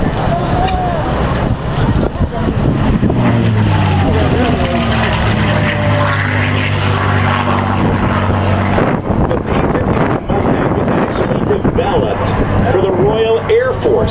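A loud P-51 Mustang propeller engine roars steadily, droning with shifting pitch as the aircraft passes, with a voice talking over it at times.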